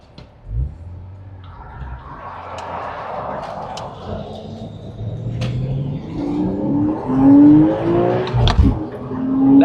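A Porsche Boxster Spyder with a manual gearbox, engine note climbing as it accelerates, a shift break and then a louder rising pull, heard close and without talk.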